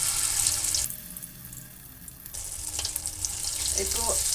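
Vegetarian Bengali poppy seed fritters (posto bora) slipped one by one into hot oil, producing a loud continuous hissing sizzle that briefly softens midway, then swells again with crackling spatters.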